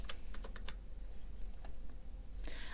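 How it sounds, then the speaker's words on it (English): Computer keyboard tapping under a steady background hum, a few faint, sparse keystrokes at the start and another small burst near the end, while entering points into an online grade center. "I will then type in the points possible."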